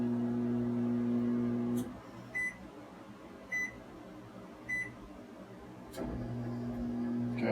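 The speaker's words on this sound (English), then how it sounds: "Now the incline's going to go down." A Sole elliptical's incline motor drives the ramp down with a steady, faint mechanical hum. The hum stops, three short electronic beeps follow in a quiet stretch, and then the hum starts up again.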